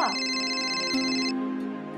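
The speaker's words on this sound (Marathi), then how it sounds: "हा बघ, अनिकेतचाच फोन आहे. म्हणून तो फोन उचल" A mobile phone ringtone plays steadily and fairly close, a sustained electronic melody of tonal notes with no talking over it.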